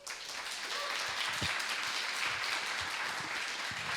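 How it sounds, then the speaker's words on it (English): Applause from an audience at a startup showcase in Austin, welcoming a judging panel; a moderate, steady patter of clapping at some distance, fairly quiet throughout. "Let's give them a round of applause."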